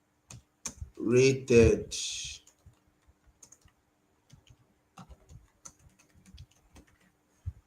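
Typing a name on a computer keyboard in Figma: sparse, crisp key clicks tapping irregularly and close, following a brief spoken word at the start.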